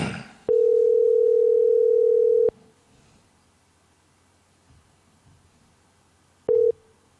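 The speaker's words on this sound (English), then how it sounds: "I hear something. It's ringing. It's ringing." A phone call rings out: a steady ringback tone sounds for about two seconds, falls silent for several seconds amid faint background noise, then starts again briefly.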